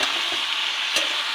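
Ground turmeric, chilli powder and roasted cumin powder sizzle in a pan of vegetarian curry as they are stir-fried, a steady close hiss with a brief scraping stir near the end.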